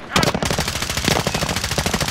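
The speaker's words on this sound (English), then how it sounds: "Where are they shooting from?" Rapid automatic gunfire in an online shooter video game, a loud continuous burst of fast rhythmic shots lasting about two seconds, close and dominant.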